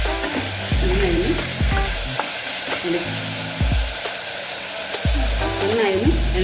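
Chicken kurma stirred in a pan, a spoon scraping and knocking against the metal in repeated strokes over a constant close sizzle of frying, loud and near with no talking.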